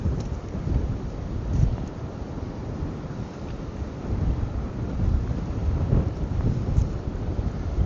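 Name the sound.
strong wind on the coast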